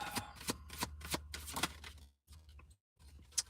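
Oracle cards are shuffled repeatedly in quick riffling bursts with short pauses, close and clear, with a low steady hum underneath and no talking.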